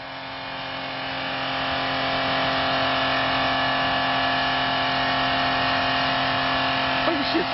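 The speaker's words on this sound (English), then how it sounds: "Oh, shit's redlining." A car engine held at the redline by a driver who has passed out with a foot on the pedal, a loud, steady, sustained high-rev drone that rises slightly at the start and then holds flat throughout.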